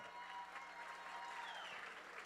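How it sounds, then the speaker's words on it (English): Audience applause at a zoo gala dinner held under the stars, a dense, even wash of clapping from a crowd heard faintly and steadily throughout. "How about another round of applause for Ron McGill?"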